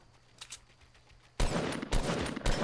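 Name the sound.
assault rifle gunfire in video game Fortnite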